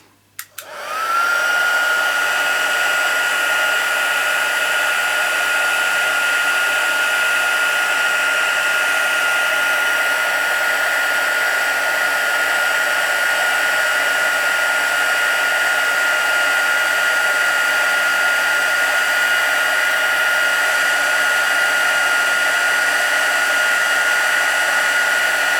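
A heat gun runs steadily for about 25 seconds, embossing a stamped greeting card: a loud, constant airy whoosh with a high whine, starting abruptly and holding without pause.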